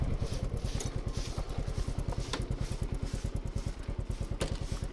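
A motorcycle rides in at a durian farm in Thailand, its engine chugging in a steady rapid pulse close by, with a few clattering knocks over the beat.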